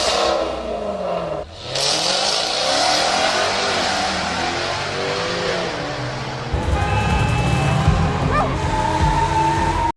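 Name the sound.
car engine revving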